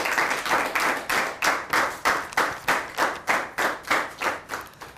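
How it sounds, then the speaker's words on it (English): Rhythmic clapping for the winning school at a school debate competition, about sixteen evenly spaced claps in steady succession, loud and close, with no voices over it. "a big round of applause to Bosco Comprehensive Secondary School"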